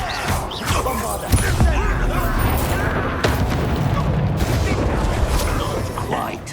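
Bombarda explosion spell in Hogwarts Legacy, a loud booming blast amid dense crashing combat noise with repeated impacts, sustained and close, mixed with spoken voices.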